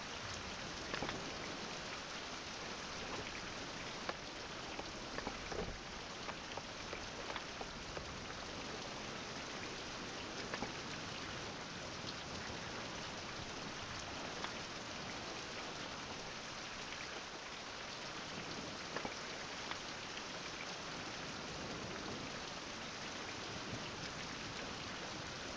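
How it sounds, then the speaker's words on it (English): Steady, even rainfall in a survival video game fills the whole stretch, a dense continuous hiss of drops with no voices over it. "More rain."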